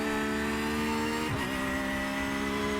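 A Porsche GT3R race car engine in iRacing, out on the Snetterton 300 circuit, drones loud and steady with a sustained tonal whine and a brief dip midway. No speech accompanies it.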